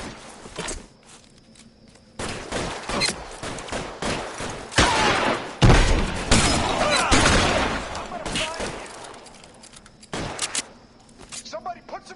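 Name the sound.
gunfire in L.A. Noire video game shootout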